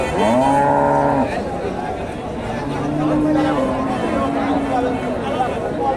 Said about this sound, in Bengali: এখানে একটা গাভী দেখেন